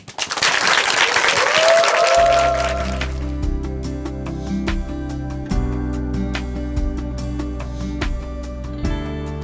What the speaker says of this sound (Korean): 춘천 한마음교회 임유택 형제님 큰 박수로 모시겠습니다.